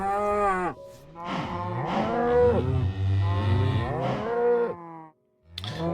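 Several Minecraft farm cows mooing loudly and close by, long drawn-out calls overlapping one after another, with a brief pause near the end before another moo begins, no talking.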